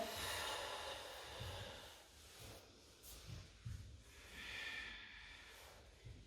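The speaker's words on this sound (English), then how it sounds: "Long deep breath." A long, deep yogic breath drawn in and let out during a vinyasa flow, soft and close with a hissing airy texture, swelling and fading across a slow cycle with no talking.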